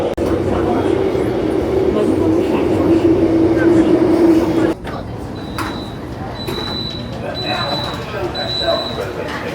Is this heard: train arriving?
yes